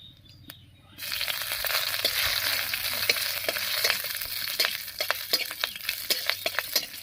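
Green chillies dropped into hot oil already tempered with dried red chillies, bay leaves and whole cumin, bursting into a loud, close sizzle after a quiet start, with crackles and stirring scrapes building through to the end.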